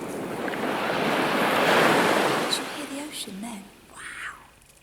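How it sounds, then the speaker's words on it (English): Ocean surf roars and swells, a broad rushing wash that peaks then recedes, with soft shushing and faint voice-like sounds. "The sea roared in the distance"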